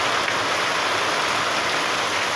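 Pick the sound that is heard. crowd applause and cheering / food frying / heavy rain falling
heavy rain falling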